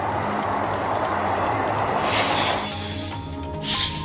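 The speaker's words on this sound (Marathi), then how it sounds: "मुंबई सोलापूर मार्गावर धावणाऱ्या वंदे भारत एक्सप्रेसचं मुंबईत आगमन झालंय." A Vande Bharat Express on the Mumbai–Solapur route arrives in Mumbai, its steady rumbling run overlaid by sustained tonal hums, with two brighter bursts near the end.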